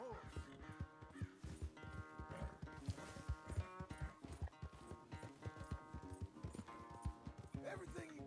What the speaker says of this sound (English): Where's that big mean horse?